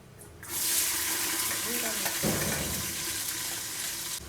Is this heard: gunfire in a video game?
no